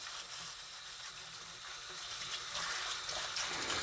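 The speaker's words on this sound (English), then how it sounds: "make sure we do a thorough job of scrubbing these carrots" Carrots are scrubbed with a scrubber pad under running water from a tap, a soft, steady hiss and splash close by, with faint rubbing scrapes mixed into the flow and no talking.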